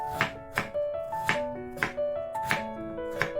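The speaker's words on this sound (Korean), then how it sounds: "감자를 먹기 좋은 크기로 썰어줍니다" A knife cutting potatoes into bite-size pieces on a board, six or seven crisp, evenly spaced chops, close and clear, with a faint ringing tone lingering beneath.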